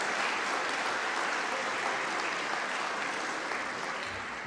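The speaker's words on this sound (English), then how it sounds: "please thank me in also giving a huge round of applause to Joanna" A large graduation-ceremony audience at Melbourne Polytechnic gives a dense, steady round of applause that stays full and even throughout, with no voices standing out.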